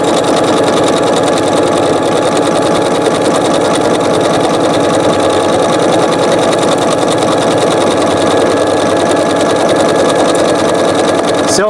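A sewing machine stitches with Gutermann thread, running at a constant speed with a close, even mechanical whir and rapid needle clatter for the whole stretch.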